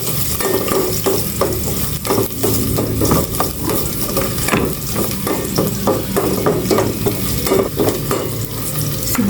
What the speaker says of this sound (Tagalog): Maglagay na ako ng mantika. Igisa ko na itong bawang.